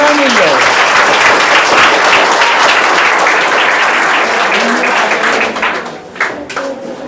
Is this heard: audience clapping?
yes